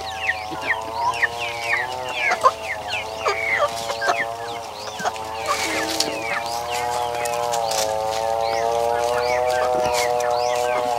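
A flock of chickens, including roosters, clucks and calls close by in a run of repeated, overlapping squawks and warbling cackles that go on steadily throughout.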